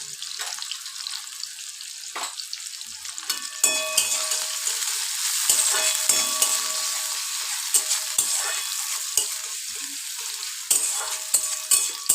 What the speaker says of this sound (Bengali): কড়াই তেল গরম হয়ে গেছে, এবার পেঁয়াজ কুচি দিয়ে দেবো